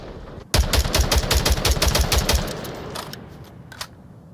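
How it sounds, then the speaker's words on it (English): Rapid automatic gunfire in the VR shooter game Onward, a fast close burst of evenly spaced shots followed by a few scattered single rounds. "Not connecting on him, but Nomad is firing at him"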